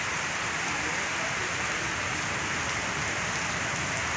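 Steady, heavy rain hisses continuously, close and loud, with no pauses.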